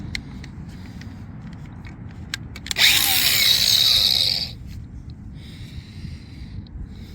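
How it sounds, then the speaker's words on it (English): A grinder cuts into pipe during a Moen cartridge puller rebuild. It makes one close, loud, harsh whine that lasts about two seconds over low shop rumble, and a few light ticks come before it. "So let's just get a grinder right here."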